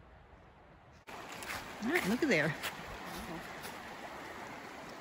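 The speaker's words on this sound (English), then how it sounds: "There's a little creek or river running back there." A small creek or river runs behind a Pennsylvania state park campground on a below-freezing winter day, giving a steady broadband wash from a short distance, with someone speaking briefly over it.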